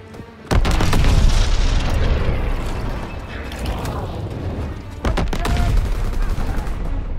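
A grenade blast and gunfire from the World War II shooter Call of Duty: WWII: a sudden loud boom, then a long rumbling din with rattling mechanical noise, and a second burst of heavy fire near the end.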